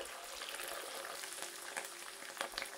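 Ginger-garlic paste sizzles and fries in hot spiced oil for a fish malai kofta curry, a steady crackling hiss close up, with faint stirring.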